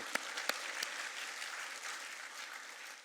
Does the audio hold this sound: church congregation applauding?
yes